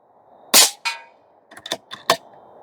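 An Airmaks Krait L Pro air rifle firing AEA pellets outdoors at a range, one sharp crack followed by a short echo, then a few quieter clicks and a final snap.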